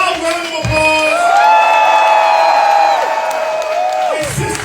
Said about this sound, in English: a loud round of applause